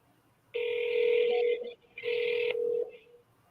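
An outgoing phone call rings back twice, each burst about a second and a half long with a short gap between, clear and close before the line goes to voicemail.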